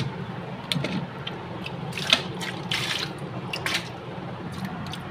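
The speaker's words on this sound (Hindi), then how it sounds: "ये देखिए अभी हम पानी डाल के दिखाते हैं हल्का सा" Water splashes and trickles into a home fish aquarium being cleaned of built-up algae, with scattered drips and brief splashy bursts over a low background rumble.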